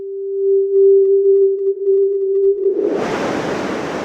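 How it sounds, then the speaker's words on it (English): A ZynAddSubFX synth tone that starts as a pure, steady sine-like pitch, then swells into a broad hiss of noise as it releases, loud and alone. "I want it to start less noisy, and then get increasingly noisy as it releases."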